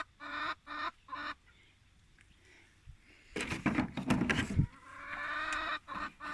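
Hens clucking in a farm pen, with short bursts of clucks near the start, a quiet gap, then a louder run of overlapping clucks and squawks close by.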